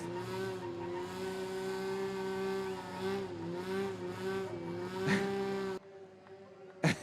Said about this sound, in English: He's going to light up the Centura against the concrete.